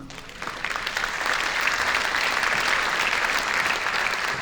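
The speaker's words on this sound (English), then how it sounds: "Please join me in giving the outstanding musicians of the show band a rousing round of applause" A concert audience applauds a community show band at a jazz and love-songs performance, clapping swelling from a light start into a steady, full round that continues throughout.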